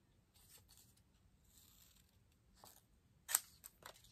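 Scissors trimming paper into a fishtail for an autumn card, making faint crisp snips close by with a few soft cuts and a sharper snip near the end, alone and quiet.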